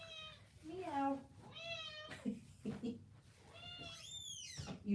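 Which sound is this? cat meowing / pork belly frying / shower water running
cat meowing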